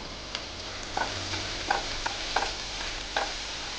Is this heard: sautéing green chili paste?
yes